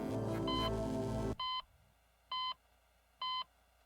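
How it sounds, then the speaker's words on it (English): Repeated electronic beeps from the video game Hacknet, three evenly spaced tones about once a second after a burst of loud game music cuts out, clear and alone with a faint low background. "Oh, why is the beeping in the background?"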